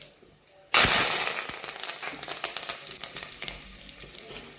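Curry leaves dropped into hot spiced oil for a Gujarati dal tadka burst into a sudden loud sizzle after a quiet moment, then keep up a dense crackling spatter with scattered pops, close and steady to the end.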